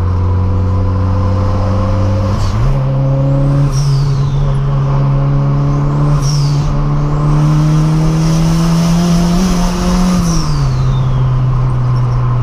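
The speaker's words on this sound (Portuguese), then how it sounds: "vocês estão conseguindo ter uma noção do barulho que o carro tá fazendo por causa do câmbio" A VW Gol TSI turbo under hard acceleration with a faulty, worn gearbox: a loud, steady engine drone climbs in pitch through the gears, with whining transmission noise and brief dips at each shift, heard from inside the car.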